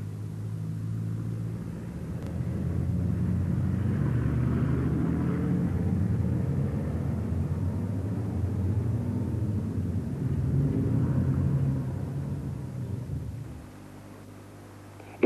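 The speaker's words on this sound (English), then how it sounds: "This car engine burns petrol to get energy to move." A petrol car engine runs at a steady low rumble that swells after a quiet start, holds broad and even, then drops back near the end, with no voices over it.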